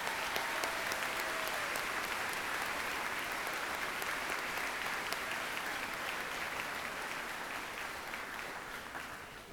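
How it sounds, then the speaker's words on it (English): Sustained applause from a large crowd at a high school graduation ceremony, a continuous dense wash of clapping heard from a distance that holds steady and eases slightly toward the end. "Please give them a round of applause."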